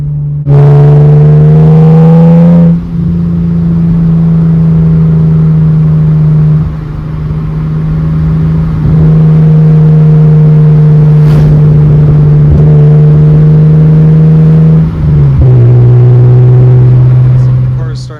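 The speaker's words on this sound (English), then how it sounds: "I'm driving to the initial meetup location, about 35 minutes away from where I'm going to be." Car engine droning steadily while driving mountain roads toward a Smokies rally meetup, with a sustained loud hum that shifts pitch slightly as gears and speed change, and a voice talking over it.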